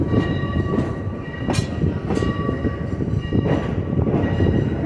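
A North Central Railroad train rolls past near New Freedom, a steady loud rumble of rail cars with periodic clanks and bursts throughout, no voices.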